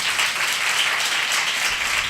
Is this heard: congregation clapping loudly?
yes